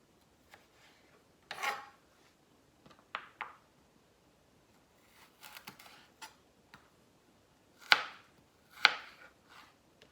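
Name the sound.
knife chopping carrot into matchsticks on a board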